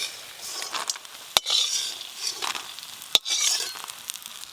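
Lentil dumplings (bori) frying in mustard oil, a soft crackling sizzle punctuated by two sharp metallic clinks of a utensil against the pan and brief stirring scrapes.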